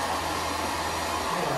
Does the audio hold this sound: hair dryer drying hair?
yes